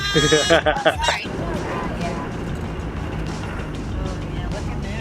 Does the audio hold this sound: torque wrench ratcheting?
no